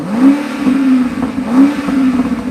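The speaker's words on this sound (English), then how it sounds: "But I'll rev it one more time. Put it back into sport plus." A 2021 Alpina XB7's engine revs up twice in sport plus mode in quick surges, the pitch climbing and falling back each time, close and fairly loud with no talking.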